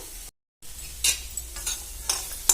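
Cucumber pieces with salt frying in a pan for a brinjal and cucumber chutney, giving a soft, steady sizzle with a few stirring scrapes and light clinks, close by after a brief moment of silence.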